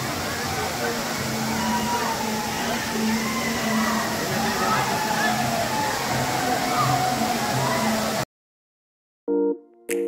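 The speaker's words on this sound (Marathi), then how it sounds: "छान आहे धबधबा." A waterfall near Khandi in the Maval area pours in a dense, steady roar for about eight seconds, with voices over it, before it cuts to near silence with a brief sound at the end.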